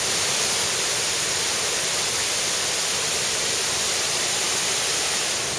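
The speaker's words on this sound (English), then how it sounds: "The waterfalls proved easier to photograph." A waterfall at a tourist stop in South Africa's Zululand and Kruger region roars as a steady, dense, full-band rush of falling water, loud and unbroken throughout, with no voices.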